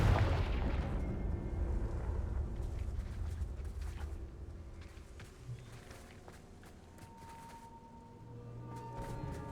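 A Confringo blasting spell explodes in the video game Hogwarts Legacy, a loud booming blast at the start that rolls off into a rumbling decay, followed by scattered footsteps and softer in-game sounds.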